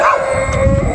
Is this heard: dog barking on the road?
yes